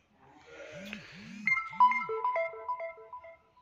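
A phone notification tone plays near and clear: low bouncing synthetic blips give way to a bright run of short descending electronic notes, fading out after a few seconds.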